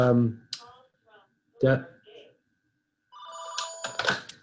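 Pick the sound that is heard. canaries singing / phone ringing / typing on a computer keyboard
phone ringing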